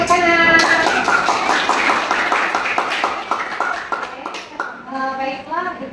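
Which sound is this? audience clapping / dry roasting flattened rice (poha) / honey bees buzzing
audience clapping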